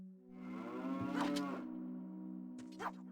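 Cow on a farm in Zelda: Ocarina of Time gives one long, clear moo that rises and falls, followed by a shorter second call, close and distinct over quiet background.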